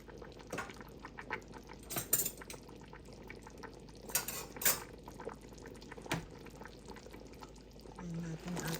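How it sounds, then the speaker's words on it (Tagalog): Chopped vegetables, including cabbage, go into a pot of Filipino beef stew (nilagang baka) with soft clatters and utensil clinks against the pot amid faint bubbling, in a few scattered bursts at close range. "At ilalagay ko na yung ating gulay."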